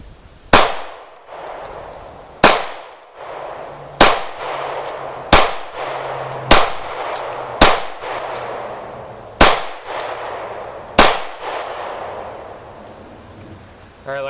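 A Hi Point C9 compact 9mm pistol fired at a target from ten yards, nine sharp loud shots at irregular intervals of one to two seconds, each with a short ringing decay outdoors.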